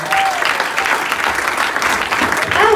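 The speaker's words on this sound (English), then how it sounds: "please give a massive round of applause" At the Pride of Formby Awards 2019, an audience gives sustained, loud applause for a lifetime achievement award, with voices and cheers mixed into the clapping.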